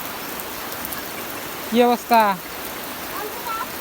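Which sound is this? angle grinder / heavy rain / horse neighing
heavy rain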